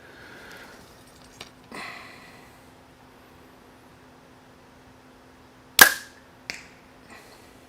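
A Hoyt compound bow fires with one sharp, loud snap of release, followed by a quick thump and small rattles, set against near silence and a faint steady hum.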